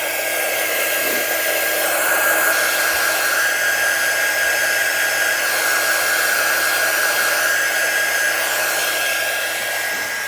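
Hair dryer blowing steadily to dry paint on a painted heart wreath, a loud, close, continuous whooshing roar with a constant motor whine that persists unchanged throughout, no speech.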